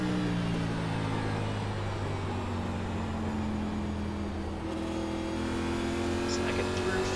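Simulated NASCAR race car engine in the iRacing game at New Hampshire, a steady loud drone with gradual pitch shifts as throttle is applied, running continuously under a voice commentary.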